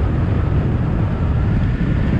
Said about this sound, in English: Even now it's extremely windy.